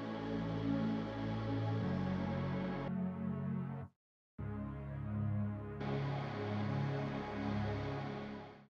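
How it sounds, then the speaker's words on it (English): A synth pad layer in a future trap beat plays as a thick, sustained wash of chords, loud and alone, cutting out briefly near the middle before returning fuller. "I added another synth pad layer"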